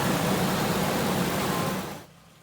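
A 2008 Ford Ranger with a 4.0-litre engine idles just after an oil change, giving a steady, close, broadband drone that abruptly drops much quieter near the end.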